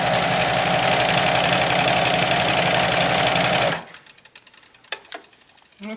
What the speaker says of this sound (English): serger sews way faster than a traditional sewing machine